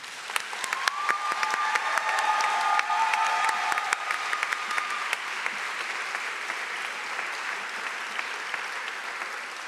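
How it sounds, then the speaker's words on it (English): Audience applause at a nursing pinning ceremony in a hall, with dense clapping from a large crowd that starts strong, then slowly thins and softens toward the end. "Can we give a round of applause one more time?"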